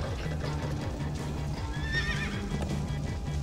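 A horse whinnies briefly over steady hoofbeats and a thick layer of background music and noise, in Minecraft: Story Mode.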